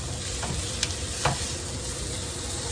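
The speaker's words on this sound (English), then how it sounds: "just the smell of onions and garlic cooking." Onions and garlic frying in a pot, a steady soft sizzle with a couple of brief stirring clinks and scrapes, close and moderately quiet.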